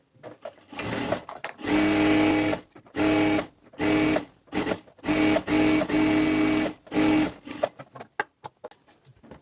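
Sewing machine running a double line of stitching along a pajama hem, in about seven loud bursts of whirring stitching separated by short pauses, ending in a few brief clicks.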